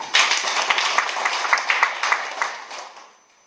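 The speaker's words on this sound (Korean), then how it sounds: "박수 한번 칩시다" A lecture-hall audience claps together in a sustained burst of applause that fades out over a few seconds, with no one speaking.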